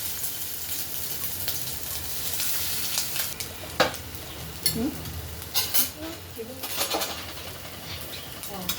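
Fish pakoda battered pieces frying in hot oil give a steady, close sizzle with occasional clinks and stirring scrapes against the pan, while a voice speaks faintly underneath.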